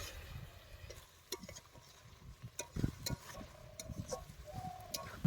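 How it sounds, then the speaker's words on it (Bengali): Goat tripe being stir-fried in a pan gives a soft sizzle under irregular scraping and knocking from a stirring utensil, fairly faint and close, with clinks scattered throughout. "নগেন এখন ভুটিগুলোকে ভালো করে কষিয়ে নিচ্ছে।"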